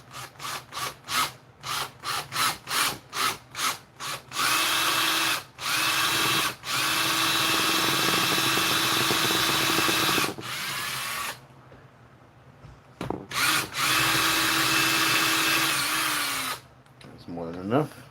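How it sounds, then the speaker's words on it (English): A power drill whirs loudly up close as it bores into a plastic 3D print, first in a string of quick short bursts, then in longer sustained runs with brief pauses between. "now this I can't drill too far because I'll drill out the other side"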